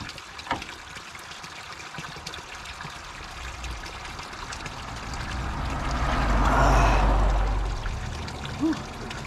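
Water runs and splashes continuously nearby at a cold spring, a steady rushing flow that swells louder for a few seconds before easing back.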